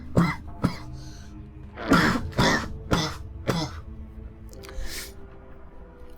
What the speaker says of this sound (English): I've really got to get over this cough.